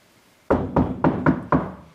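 Five firm knocks on a door in a hockey-themed stage production of Macbeth, struck in a steady, evenly spaced rhythm about a quarter second apart, close and loud with no talking.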